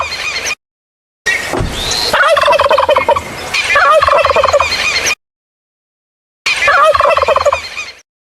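A turkey gobbles in three loud, rippling bursts separated by silent gaps, each call a rapid warbling rattle heard up close with no other sounds.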